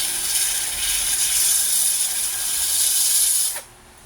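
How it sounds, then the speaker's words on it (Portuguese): Sanding a component on the main circuit board of a TCL 43S615 TV: a steady, even abrasive hiss that runs continuously at close range, then stops abruptly near the end, leaving only faint room tone. "eu vou até dar uma lixada nesse outro aqui também"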